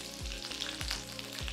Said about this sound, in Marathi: तेल गरम होताच देऊया फोडणी. 1 चमचा हिरवी मिरची किंवा 1 मोठी हिरवी मिरची